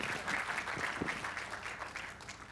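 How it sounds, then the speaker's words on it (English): An audience applauds at a toy design competition award presentation ceremony, a soft, even wash of many hands clapping that sounds distant and faint throughout. "Please give them a round of applause."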